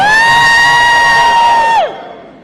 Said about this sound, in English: Now can everyone scream for me,